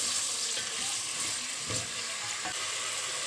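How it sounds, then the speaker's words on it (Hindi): Half a kilo of goat meat fries in ghee with a steady, dense sizzle, punctuated by a couple of soft stirring knocks. "इसको अच्छे से जो है वो भूनना है घी के अंदर"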